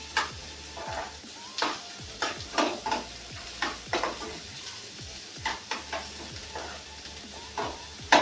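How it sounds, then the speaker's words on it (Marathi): Chopped onion frying in hot oil in a pan, a steady close sizzle broken by repeated scraping stirs at an uneven rhythm, with no talking. "आता तेलामध्ये त्याला फ्राय करून घेऊया."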